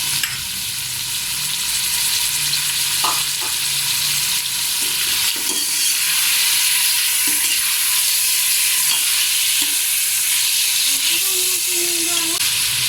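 Chicken and turnip sizzle loudly in a pan as tomatoes go in, a strong continuous frying hiss with spoon scrapes and clinks, close up, with a voice speaking briefly.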